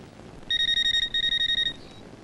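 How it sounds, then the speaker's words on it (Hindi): Electronic telephone ringtone of two rapid bursts of warbling beeps, each lasting about half a second, clear and close in a quiet room. "मालिक फोन है।"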